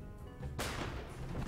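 A single sharp gunshot rings out in the Empire of Sin video game as a woman is shot, a sudden loud blast with a rumbling tail over a steady low game backdrop.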